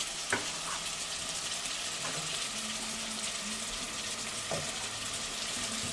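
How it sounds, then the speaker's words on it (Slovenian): Cleaned, trimmed and chopped vegetables fry in a pan with a steady broadband sizzle, broken by a few faint clinks of a utensil and no voices. "smo zelenjavo očistili, popravili, narezali in dali, da se praži"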